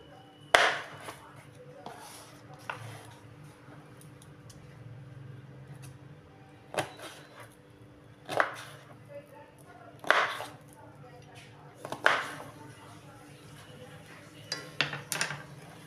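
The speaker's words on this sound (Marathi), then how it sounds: "आता छोट्या छोट्या फोडी करून घेते." A ridge gourd being cut into small pieces, sharp separate knife chops landing about every two seconds, fairly close, between quiet stretches with some talking.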